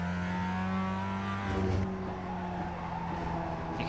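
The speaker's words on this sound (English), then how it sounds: "You can hear the tyres screaming for mercy at the hands of Javier Lopez" Mazda MX-5 race car in a sim racing game at Okayama, engine droning steadily with tyres squealing and scrubbing through corners, loud and continuous with no talk.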